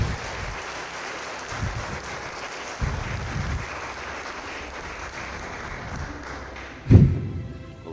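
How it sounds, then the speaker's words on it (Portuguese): A church congregation claps through broad, steady applause, with scattered thumps and one louder knock near the end. "aplauda Jesus Cristo"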